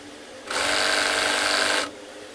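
A sewing machine stitches along the edge of a handkerchief in one steady, close whirr lasting under two seconds, then stops.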